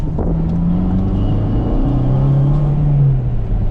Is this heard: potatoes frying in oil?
no